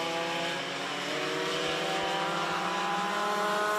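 Several Junior 2 Yamaha karts race at Forks Karting Speedway during a feature race, their engines blending into a steady, loud, high-pitched drone that stays constant, with no talk.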